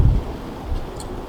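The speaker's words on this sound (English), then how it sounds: "It's really windy" Strong wind gusts during a snowstorm on a homestead buffet the microphone in low rumbling bursts, loudest at the start and again partway through, with no talking.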